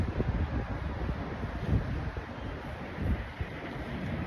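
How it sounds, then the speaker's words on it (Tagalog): Wind gusting across a 20th-floor balcony in steady rumbling buffets, swelling in a few stronger gusts, close and fairly loud against the microphone. "Hangin. Mahangin."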